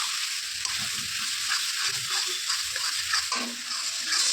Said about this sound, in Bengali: এখন এটাকে আবার ভালো করে কষাবো।